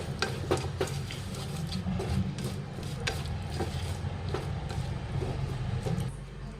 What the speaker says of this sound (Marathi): आता आपण त्याच्यात शेंगदाणे टाकून घेऊया आणि मिक्स करून घ्यायचं लगेच